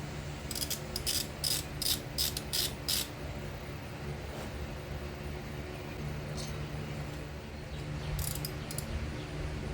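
A hand ratchet works loose a 12 mm bolt on a 2001 Honda Rancher 350 ATV engine, making short bursts of quick clicking near the start and again near the end over a low background hum.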